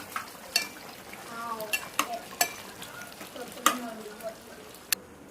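Chicken for biryani frying in a pan with ghee, a soft steady sizzle broken by sharp clinks and scrapes of a spoon stirring against the metal.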